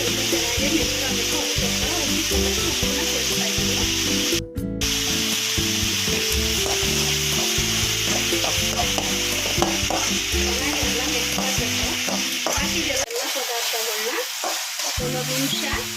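Tomatoes and chopped vegetables fry and sizzle in a pan while a spoon stirs and scrapes steadily, a close, continuous hiss with frequent scraping strokes, briefly cut by a gap near the end, for vegetable upma.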